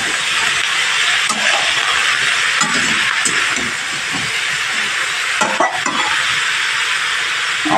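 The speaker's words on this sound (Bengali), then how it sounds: "লাউ আর আলু দিয়ে দিলাম, দিয়ে ভালোভাবে নাড়তে হবে তেলের সাথে।" Bottle gourd and potato pieces frying in oil in a pan while being stirred, a loud steady hiss and sizzle with scattered scraping knocks from the stirring.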